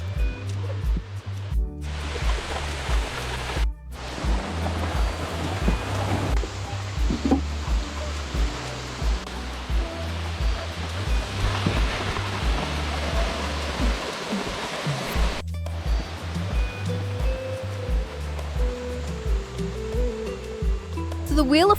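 Continuous rushing roar of a series of rainforest waterfall cascades in North Queensland, loud and steady across the whole stretch, with brief dips where the sound cuts out and occasional voices blending under the water noise.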